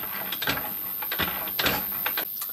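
A lathe cuts a keyway with light passes of a couple of thou, giving a short run of soft, rhythmic scraping strokes, close and fairly quiet, with no talking.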